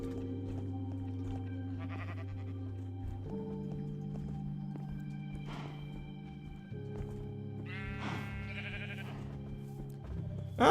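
Sheep bleating in Minecraft, several drawn-out wavering bleats one after another, clear and near over quiet game background with a short burst of louder noise at the end.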